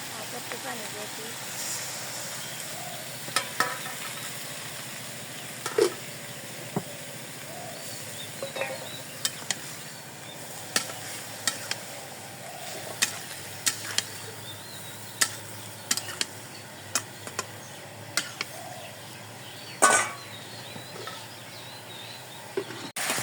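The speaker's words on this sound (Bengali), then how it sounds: "লাউ কষানো শেষ" Bottle gourd sautés in a pan, a soft continuous sizzle broken by frequent sharp clicks and scrapes from stirring at close range, with quiet voices now and then.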